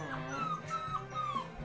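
Several puppies whimper and yip in a run of rising, whiny cries, close by and fairly steady, with no clear talk over them.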